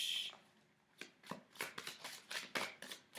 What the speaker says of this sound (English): So let's shuffle the cards and see what the cards have to say.